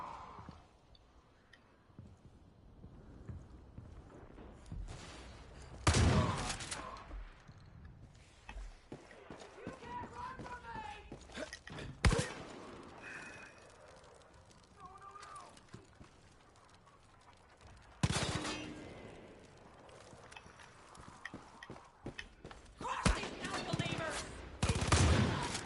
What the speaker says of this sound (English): So she's shooting me from over there.